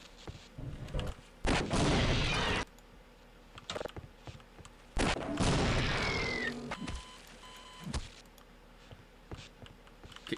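Weapons fire in the video game Half-Life: Opposing Force, with two sustained bursts of rapid, loud automatic gunfire separated by quieter moments. Scattered clicks and a few short electronic beeps are also heard.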